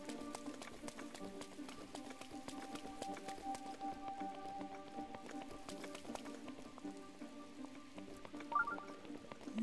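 Steady rainfall in Zelda Breath of the Wild, a soft continuous patter beneath game ambience and occasional footstep-like taps, with no one speaking.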